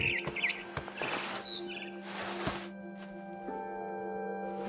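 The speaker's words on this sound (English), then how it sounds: "Then I heard chirping outside my window. It was a barn swallow going back to her nest." A barn swallow chirps in What Remains of Edith Finch, a few quick bright twittering calls near the start over a quiet humming indoor ambience, then fading away.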